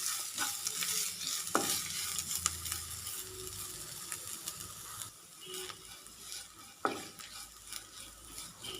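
Ginger sautés in a pan for a Kerala inji pachadi, a soft continuous sizzle broken by a spoon scraping and stirring against the metal at irregular intervals.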